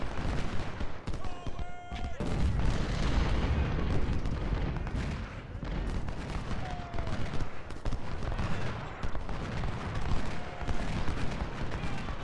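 Artillery and massed gunfire rumble through a battle in Ultimate General: Civil War, a steady, fairly quiet wash of booms and crackling shots with someone talking over it.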